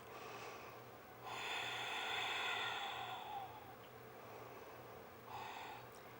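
A person breathes slowly during a yoga pose, with two long audible breaths through the nose, close and soft over a low background hum, with no talking.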